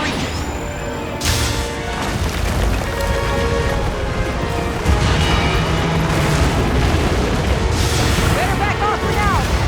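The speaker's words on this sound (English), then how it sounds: "The compact anti-wyvern guns can reach it!" Compact anti-wyvern guns in the monster-hunting game Monster Hunter Wilds fire as heavy repeated booms and crashes through dense, loud battle noise, with voices talking over the fight.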